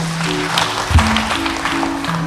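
Audience applause for a spelling bee contestant, a dense wash of clapping running throughout beneath steady background music.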